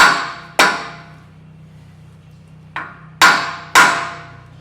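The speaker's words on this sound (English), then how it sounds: "gently tap the side of it with the screwdriver, with the hammer" Four sharp metallic taps of a hammer on a screwdriver against taper cones in a Toyota 80/100 Series part-time 4WD kit ring out, one early, then a softer one and two quick ones close together, each decaying briefly against a low hum.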